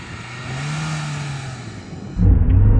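A 2022 LADA Niva accelerates hard from a standstill, its engine drone rising and holding under steady road noise, then a sudden loud rumble near the end.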